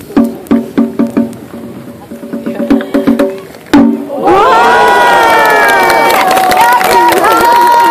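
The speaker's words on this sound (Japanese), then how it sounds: "今日一番の大きな拍手お願いいたします。" A crowd at a Japanese monkey show bursts into loud, sustained cheering and shouting after a stretch of rhythmic clapping, with voices joining in.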